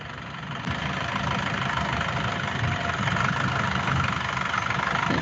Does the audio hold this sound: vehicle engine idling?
yes